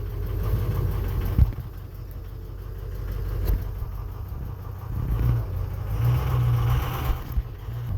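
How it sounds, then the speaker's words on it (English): A Ford 6.0 Powerstroke diesel pickup with a rough-running engine idles, then its engine swells briefly as the truck creeps forward a short distance, the close low rumble rising and settling again. "so I'm going to pull this truck forward a hair."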